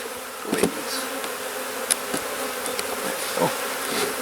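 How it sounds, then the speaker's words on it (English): Honey bees buzz around an opened hive during spring de-winterizing, a close, steady hum with individual bees swooping past the listener in brief louder passes, no voices. "Come on, bees. Go away. Go away, bees."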